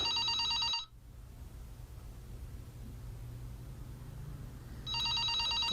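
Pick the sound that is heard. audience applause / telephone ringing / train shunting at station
telephone ringing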